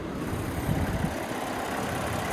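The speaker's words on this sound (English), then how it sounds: "There's that 3-liter twin turbocharged V6." A 2025 Lincoln Aviator's 3-liter twin-turbocharged V6 idles in the open engine bay, a steady, close, low rumble that holds evenly throughout.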